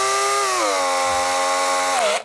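A power drill runs at high speed while a drill bit is clamped in its chuck, a loud steady whine that dips in pitch then recovers and winds down abruptly at the end.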